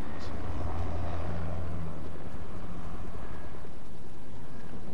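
Helicopter in the Fortnite video game, a steady low rotor drone and engine rumble holding throughout, loud and close with continuous wash, no voices in this stretch.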